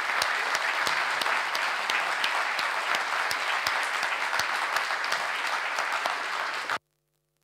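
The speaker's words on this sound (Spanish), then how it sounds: "vamos a dar un aplauso a los panelistas." An academic audience applauds panelists at a computing institute's 50th-anniversary event, steady dense clapping filling the room for several seconds before cutting off abruptly into silence.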